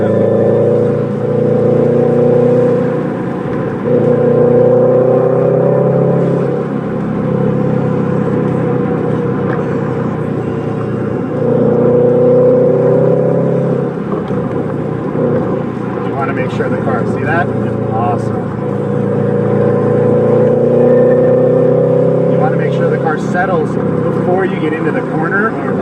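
A car engine is pulled hard in second gear at night, revving loud and close with surging, rising pitch sweeps, while a person talks over it throughout.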